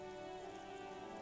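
Steady, dense rain pours down on a gray, ruined city in Disco Elysium, a constant hiss of drops with no pauses, loud and enveloping, and no voices.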